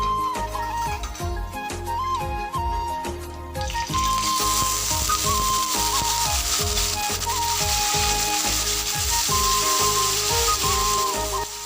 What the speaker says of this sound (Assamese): এতিয়া এইখিনি গৰম হওঁতেই পনীৰখিনি ভাজি ল'ম।